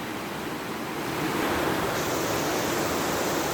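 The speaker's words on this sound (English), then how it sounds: "This is the creek." Creek water flowing steadily at Tollbridge Park, a close, even broadband rush with no voices, swelling slightly louder partway through.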